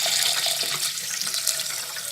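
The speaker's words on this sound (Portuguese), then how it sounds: "Pode ligar a torneira." Tap water running steadily into a sink while millet seeds are washed, a close, continuous splashing hiss with small gurgling fluctuations.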